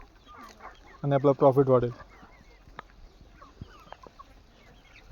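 Country chickens on a small poultry farm of about two hundred birds let out one loud burst of rapid clucking, about a second long, then fainter scattered calls follow while someone talks.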